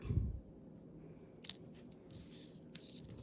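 Scissors snipping paper for a double Z fold card, a few quiet crisp cuts close by after a soft thump at the start, otherwise near silence.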